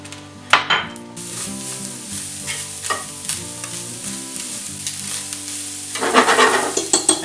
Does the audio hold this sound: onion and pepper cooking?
yes